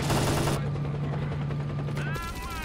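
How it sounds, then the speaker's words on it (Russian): Rapid bursts of rifle fire in the video game S.T.A.L.K.E.R.: Clear Sky crackle loudly over a steady low hum, then cut off, leaving a brief electronic whine. "Слишком много стрельбы было в этом ране."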